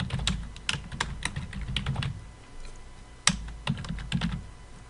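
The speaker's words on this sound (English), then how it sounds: "click and start typing" Fingers typing on a computer keyboard, quick irregular clusters of crisp key clicks close to the microphone, pausing briefly before resuming, with no talk.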